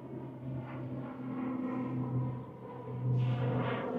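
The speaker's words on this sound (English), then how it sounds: "We've just got a plane taking off behind me now." A plane climbing out near Castletown on the Isle of Man, a low, continuous engine rumble and drone from a distance, with a steady tone that grows a little louder near the end.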